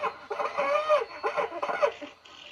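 A player's voice in the Rec Room video game sounds like a garbled, quacking cartoon duck, coming as several rapid squawky bursts over a few seconds, like a voice imitating Daffy Duck.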